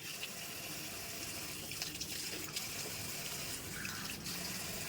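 Water is sprinkled by hand over garden plants such as tulsi and hibiscus, a soft, continuous splashing and pattering with small irregular drips, fairly quiet and with no voices.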